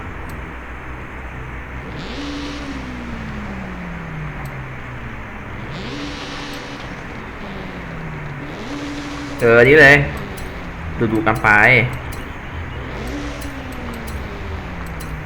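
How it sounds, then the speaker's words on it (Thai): A Honda Civic EK9 racing car engine in Forza Horizon 5 revs up and shifts repeatedly in rising, falling sweeps, with someone talking over it in bursts. "แหมเสียงเครื่องนี้ก็ดุใช้ได้"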